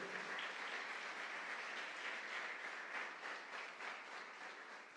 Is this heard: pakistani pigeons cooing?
no